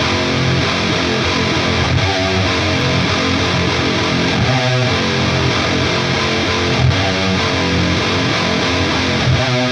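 Heavy, dense distorted metalcore guitar chugging a low-string breakdown, with brief flourishes at the ends of phrases; loud, sustained, and without any voices.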